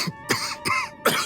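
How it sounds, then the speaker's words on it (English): A man coughs in several harsh, rough bursts, three or four loud hacks spaced close together in a short span, with no talking around them. "He's coughing up a storm."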